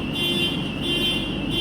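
A car alarm sounds outside a hall during a religious lecture, a continuous steady electronic tone holding unbroken over a low rumble of background noise.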